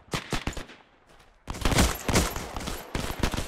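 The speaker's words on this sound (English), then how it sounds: "they're still shooting at us" Enemy gunfire in the WWII shooter Hell Let Loose: close, loud rifle and machine-gun shots in quick bursts, a short lull, then a heavier sustained volley with more sharp cracks, with no talk.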